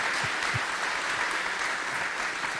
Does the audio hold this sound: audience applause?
yes